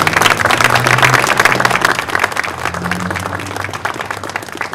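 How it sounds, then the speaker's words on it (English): Sustained round of applause from a crowd at a campaign announcement event, a dense, loud wash of many hands clapping steadily throughout, with faint voices underneath. "please join me in giving them one more big round of applause"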